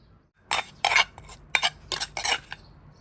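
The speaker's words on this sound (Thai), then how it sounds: "เราก็จะนำไปคนใส่ไข่เลยนะคะ" A spoon stirs red ant eggs into beaten chicken eggs in a bowl, making about half a dozen quick, close scraping clinks in an uneven rhythm with quiet gaps between.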